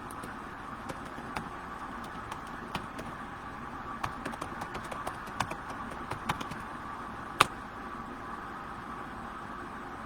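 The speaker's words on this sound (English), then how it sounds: "let me stop talking while I type" Typing on a computer keyboard: a steady patter of light key clicks across the whole stretch, one sharper tap standing out, over a constant hiss of room noise, with no talking.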